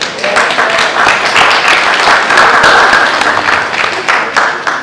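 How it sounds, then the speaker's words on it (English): A room of students at a graduation ceremony applauds, with dense, loud, sustained clapping that swells and then eases slightly toward the end. "Give yourself a clap."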